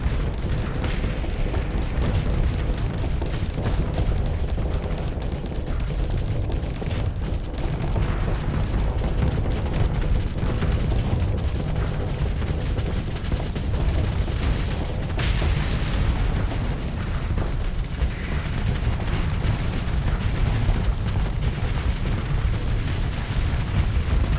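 Space mines detonate in the game Starsector, a steady barrage of muffled booms and popping bursts rolling on continuously under a dense, mid-loud combat din.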